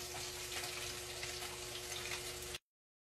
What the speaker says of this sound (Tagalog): Hala ko tong ilang pritong tilapia